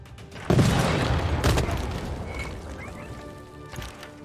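Bombard firing in Civilization VI: one heavy boom with a long rumbling decay, then a second thud a second later and a faint third near the end, over quiet game ambience.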